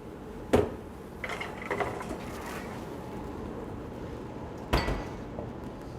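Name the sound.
muffin tray being put into the oven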